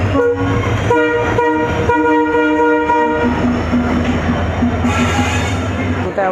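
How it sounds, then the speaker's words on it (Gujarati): Loud horn of the Saurashtra Mail passenger train blaring in long sustained blasts at close range, with the rumble and clatter of the rail carriages running underneath and faint voices. "હોંકિંગ જો તમે, હોંકિંગ જબરદસ્ત."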